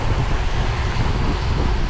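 Steady wind buffets the microphone during a 200 km bicycle ride, a continuous low rumbling roar with no other clear sounds.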